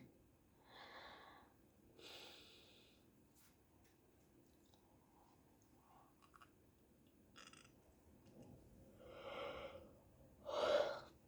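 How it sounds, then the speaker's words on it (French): A person yawns during a spoken reflection on grief, drawn-out breathy exhales and a soft stretched sigh, close and quiet, with short gaps of near silence between the breaths and no talk. "Pardon, de bailler."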